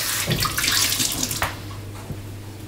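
An old kitchen sponge is wetted under a running tap, with a steady, close rush of water splashing throughout. It is loudest at first, then settles into a softer flow with a few small knocks.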